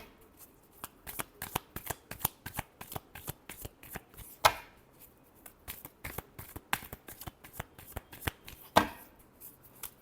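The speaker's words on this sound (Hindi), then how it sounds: "Last shuffle." Tarot cards are shuffled by hand in a quiet indoor setting, giving a long run of crisp, rapid riffling flicks and slaps with two louder bursts where the deck is bridged.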